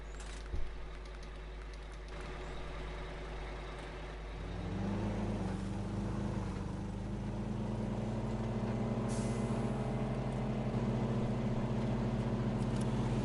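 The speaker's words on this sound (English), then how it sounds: "This is another one that's got quite a noticeable engine noise, really" A modded truck in the SnowRunner game idles at first, then its engine swells into a loud, steady drone that holds for the rest of the clip after a short hiss.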